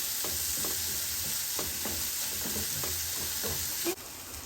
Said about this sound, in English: Saute it for about a couple of minutes.